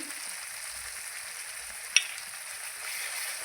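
Turmeric being stirred into a chickpea curry masala paste, a steady soft frying sizzle running throughout with one brief sharp clink of the spoon partway through.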